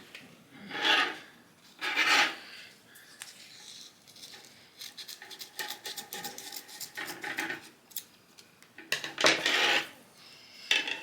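Scissors trimming excess material on a handmade summer craft wreath, a few rasping snips in separate bursts with quieter rustling and handling between them, close and alone.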